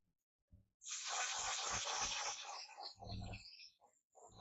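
A sustained spray of One Size makeup setting spray hisses for about three seconds after a brief tap, then trails off into a few shorter bursts of spraying. Close and fairly loud.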